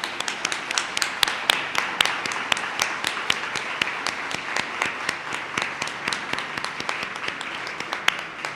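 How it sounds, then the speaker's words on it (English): An audience claps for a luncheon committee at a graduation celebration, dense sustained applause with sharp individual claps standing out, steady and moderately loud from start to finish. "Let's give them a round of applause."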